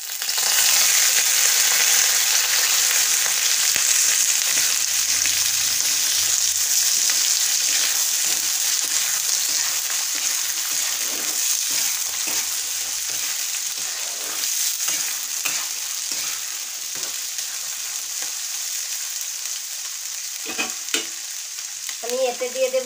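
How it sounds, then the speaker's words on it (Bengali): Raw chickpeas fry in melted sugar over low heat for a Bengali chickpea pickle, a loud steady sizzle with occasional scraping stir strokes, fading slightly and ending in a few clinks. "এখন চিনিটা গলতে শুরু করেছে, এখন আমি দিয়ে দেব চানাগুলো।"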